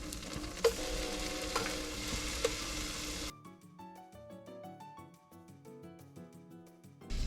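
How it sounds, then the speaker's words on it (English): Garlic browns in a pan on a stove with a close, bright sizzle and some stirring for about three seconds. Music then takes over and the frying is no longer heard. "Let the garlic brown just for a few seconds"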